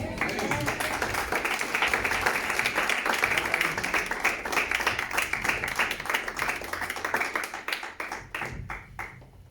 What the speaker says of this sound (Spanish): ¿Quién va a aplaudir esta?